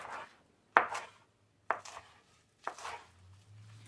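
A knife slices through celery stalks and green onions on a board, giving three sharp, separate chops about a second apart, close and crisp in an otherwise quiet kitchen, with no speech.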